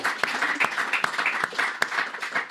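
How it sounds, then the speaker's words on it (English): Audience applause for the panelists at the close of a discussion on critical raw materials, a steady patter of many hands with sharper individual claps standing out, moderately close and sustained for a couple of seconds. "Let's give a round of applause to everybody."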